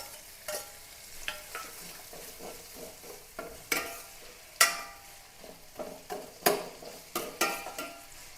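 Ginger, crushed garlic and green chillies frying in a pan for chicken curry, with a steady close sizzle broken by sharp, irregular stirring scrapes of a spoon against the pan.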